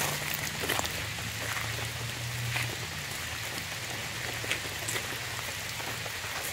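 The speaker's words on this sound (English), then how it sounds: "Thankfully, it's not raining too hard, and the tree cover kind of helps prevent a total soaking" Rain patters steadily onto tree cover over a lakeside state park campsite, a continuous soft hiss with scattered drips, moderate and even throughout with no voices.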